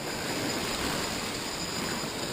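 Surf washing in steadily at a coastal fishing spot where the current pulls one way and waves roll in the other, a continuous broadband roar of moving water with no voices, close and even throughout.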